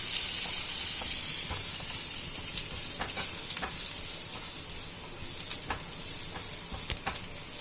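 Grated ginger and two chopped green chilies sizzle and fry in hot oil, a steady loud hiss with scattered pops and crackles, no talking.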